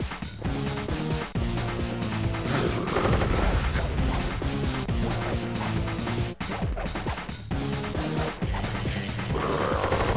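Video game gunshots and crashing impacts ring out loud and repeatedly over a continuous musical score, with sharp bursts recurring throughout.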